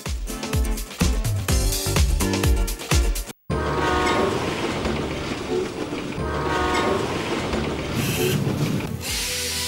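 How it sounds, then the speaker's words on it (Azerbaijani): A train pulls into a platform with a sustained horn blast and rumbling wagons, loud and continuous after a brief cut from rhythmic music at the start. "yenə də platformamıza top qatar yaxınlaşır"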